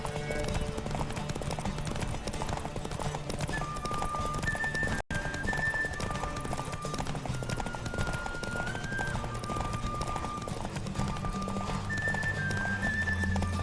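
Galloping horse hooves in The Witcher 3 during a horse race, a steady fast clip-clop running throughout with occasional whinnies, layered over game music and ambient sound.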